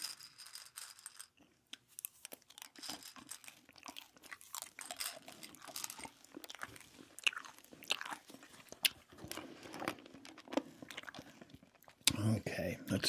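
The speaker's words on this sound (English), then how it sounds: "I really like these Skittles. I think they make some great crunching sounds" Skittles candies are chewed and crunched close to the mic in a quiet setting, giving irregular crisp crunches and wet chewing sounds with short pauses between bites.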